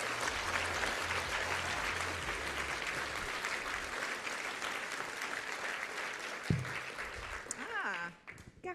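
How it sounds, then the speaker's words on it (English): An audience at an engineering awards ceremony claps for a prizewinner, with steady, full applause that continues and then tails off into a few claps and some voices at the end. "A huge round of applause."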